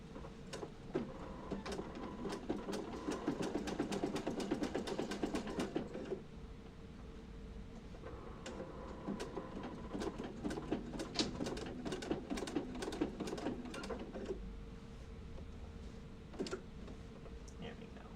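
A sewing machine with a walking foot quilts a serpentine stitch in two long runs of rapid, close, mechanical stitching with a short pause between them, then brief stops and starts.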